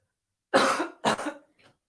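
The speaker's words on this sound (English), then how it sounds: "It's all right. I'll just keep coughing." Two harsh, close coughs in quick succession, the second trailing off, followed by a faint short sound and silence.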